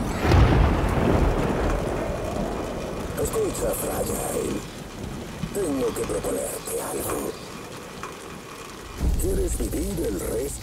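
A rainstorm with rumbling thunder in the video game Death Stranding: steady rain hiss runs throughout with low booming rolls at the start and near the end, while voices talk over much of it.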